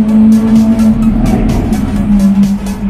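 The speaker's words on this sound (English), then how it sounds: "Very loud AVENTADOR." A Lamborghini Aventador's engine roars loud and close with a steady droning tone and harsh rasp, sounding strained as it passes among other supercars.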